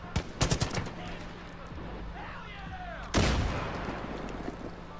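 Assault rifle gunfire in Far Cry 5, a quick rattling burst of several shots at the start, then a single heavy blast with a lingering rumble, amid game background noise.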